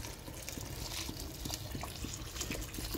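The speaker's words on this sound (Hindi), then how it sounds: "ऐड कर देंगे हम पानी, पानी हम गरम ऐड कर रहे" Hot water poured into a pot of rice for Muradabadi-style chicken biryani, a steady splashing gush with faint trickling, fairly close and continuous, with no talking.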